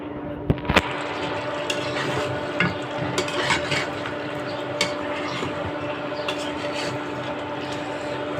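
Meat and potatoes sauté in a pot, giving a steady sizzle while a spoon stirs and scrapes in scattered clicks and clacks, close and moderately loud, with faint talk in the background.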